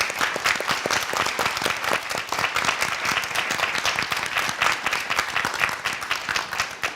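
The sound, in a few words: audience applause welcoming guest judges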